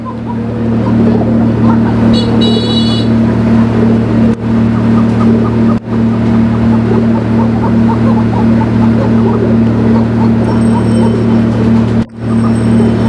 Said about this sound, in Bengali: ওই যে জেনারেটর শব্দ চলতেছে